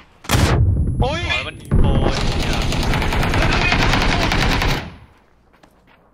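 Loud, close automatic gunfire in the video game PUBG fires in rapid, sustained bursts for several seconds, then cuts off abruptly. Excited Thai speech from players breaks in over the shooting.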